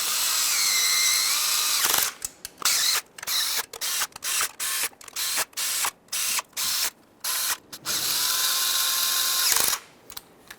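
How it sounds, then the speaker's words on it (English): Power tool running bolts into the oil pan of a 1994-1997 Honda Accord 2.2L four-cylinder, long whirring runs at the start and end with a series of short, choppy bursts between, close up. "we're going to bottom out each of the bolts going clockwise"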